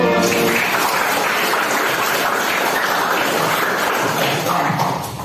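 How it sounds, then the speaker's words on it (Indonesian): A crowd applauds after a persuasive speech given as a classroom practice, a dense steady wash of clapping that holds at full strength for about five seconds and then starts to taper. "Boleh tepuk tangan dulu."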